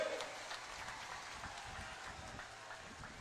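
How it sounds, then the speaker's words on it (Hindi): A large crowd at an outdoor political rally in Assam claps for two candidates, a dense, continuous patter of many hands that holds steady from start to finish at moderate distance. "जरा जोर से ताली बजाओ दोनों के लिए"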